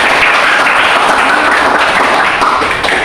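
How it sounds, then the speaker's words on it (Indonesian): A classroom of students applauding together, a dense, steady patter of clapping that holds at an even loudness throughout with no talking over it. "Ya, kasih tepuk tangan."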